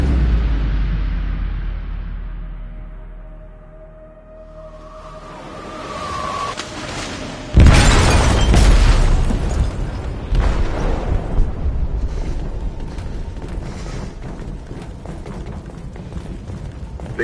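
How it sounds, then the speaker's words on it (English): Explosive detonated in a ship's hold in Detroit: Become Human, a deep rumbling build that breaks into a sudden heavy blast, followed by a long roaring, crackling wash of debris and churning noise. "They detonated an explosive in the hold."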